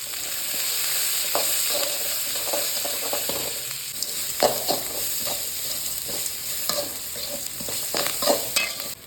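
Small onions sautéing with a little salt in a pan for goat blood poriyal, a steady sizzle broken by repeated stirring scrapes and clatters, close and continuous with no voices.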